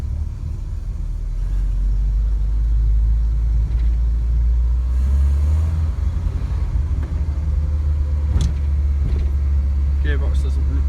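An Autosleeper Ford Transit motorhome engine rumbles steadily and loudly at close range while driving slowly around a yard, with a low continuous drone and occasional faint clicks and squeaks.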